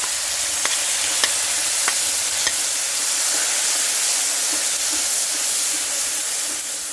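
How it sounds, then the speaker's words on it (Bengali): Ground spice paste hitting hot oil after whole spices were tempered, for a vegetarian taro dish: a steady, loud sizzle and crackle fills the whole stretch, with a few sharp clicks of a spoon near the start and no talking. "এই তেলেই ফোড়ন দিয়ে দিচ্ছে সব কটা ফোড়ন হয়ে গেছে এবার মা বাটা মশলাটা দিয়ে দিচ্ছে"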